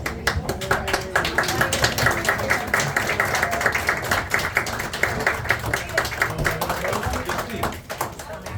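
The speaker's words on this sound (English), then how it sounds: "Round of applause." An audience applauds at a Valentine's Day poetry contest awards ceremony, steady dense clapping from a nearby crowd that carries on loudly throughout, with voices mixed in.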